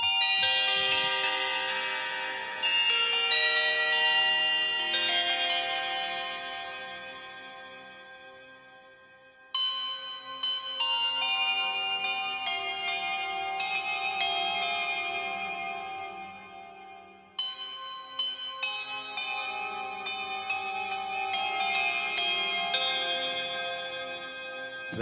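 Swarms of bell tones from the It Tolls patch of the Bell Swarm sample library ring out in overlapping struck clusters, each decaying before fresh strikes restart the shimmering, dense chime texture.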